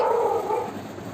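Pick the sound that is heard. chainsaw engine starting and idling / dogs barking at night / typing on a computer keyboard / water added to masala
dogs barking at night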